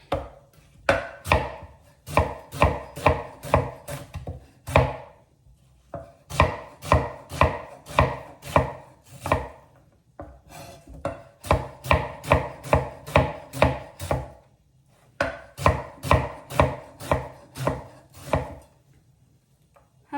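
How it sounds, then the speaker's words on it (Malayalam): Onions are chopped with a knife in quick rhythmic bursts of sharp, close board taps, each run a dozen or so strokes, separated by short pauses and with no voices. "നമ്മുടെ സവാളയും കൂടെ ഒന്ന് അരിഞ്ഞെടുക്കാം"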